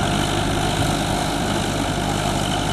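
A newly bought farm machine, already run for three seasons, idles with a steady, smooth engine hum that stays even and continuous throughout, with no voices.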